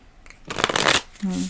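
A deck of playing cards is shuffled in a quick, close riffle burst lasting about half a second, followed by a short stretch of speaking voice.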